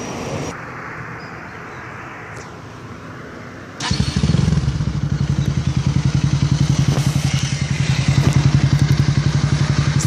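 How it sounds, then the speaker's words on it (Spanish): A Pulsar 200 NS motorcycle fitted with a Kit Racing exhaust idles at first, then fires into a loud, rapid throbbing run that builds and stays close and dominant. "Vamos a mostrar el escape de CDM, el nuevo sistema de escape de Kid Racing."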